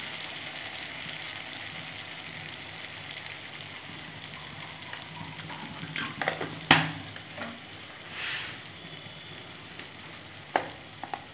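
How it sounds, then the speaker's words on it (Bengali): Egg curry masala with coriander powder sautéing in a pan, a steady bubbling sizzle with spoon scrapes and clinks growing busier in the second half, no talking. "আবার ভালো করে কষে নেব"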